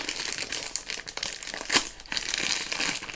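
A pack of trading cards has its plastic wrapping opened, giving continuous close crinkling and crackling with a few sharper tearing rips and no talk.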